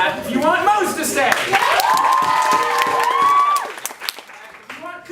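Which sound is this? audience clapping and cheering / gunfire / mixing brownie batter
audience clapping and cheering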